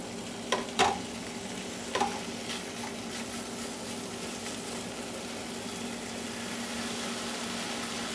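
Bacon crumbles drop into a hot frying pan holding omelet fixings with feta and sautéed kale, giving a steady close sizzle broken by a few soft taps early on, with no talking.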